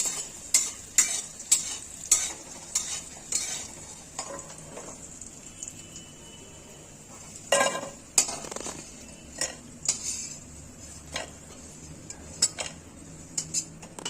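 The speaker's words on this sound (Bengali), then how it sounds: "এখন আলুগুলো তুলে নিব।" A utensil repeatedly taps and scrapes against a pan while fried potatoes are lifted out of hot oil, sharp metallic clinks in a steady rhythm over a soft background sizzle.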